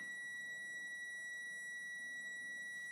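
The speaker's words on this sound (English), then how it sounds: "That's a long beep." A steady, unbroken high electronic beep holds for the whole stretch, loud and constant over a faint background hiss.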